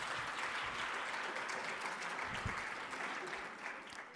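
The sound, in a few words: audience applause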